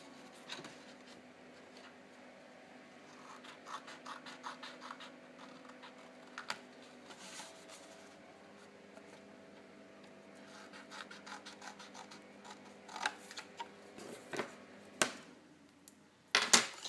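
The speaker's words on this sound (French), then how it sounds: "Je vais découper ces deux-ci qui nous servent pour le couvercle de rabat" Cardstock pieces for a box lid flap are cut at a papercraft table, heard as quiet, close clicks, taps and scratchy slides in an irregular rhythm, with a few sharper snaps near the end and no talking.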